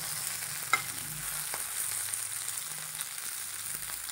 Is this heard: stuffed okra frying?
yes